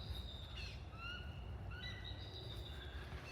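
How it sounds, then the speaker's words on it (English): An eagle calls in a garden just after a hard drizzle, with a few thin, high chirping whistles scattered across the moment. The calls sound distant and faint over a steady low rumble of background noise. "Ah, hearing an eagle."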